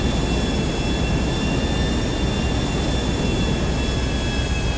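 An airplane engine drones in GTA V, a loud, steady and continuous roar with faint high whining tones running underneath and no break throughout.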